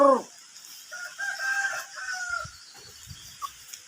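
A rooster crows at close range in a Filipino backyard poultry yard, a loud drawn-out call with rising and falling tones, followed by softer clucks and quiet shuffling.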